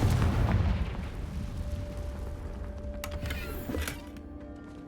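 A Confringo fire-blast spell from a Harry Potter video game goes off with a dull, booming burst, then a sharper crackling blast near the end, over a steady low ambient hum with no talk.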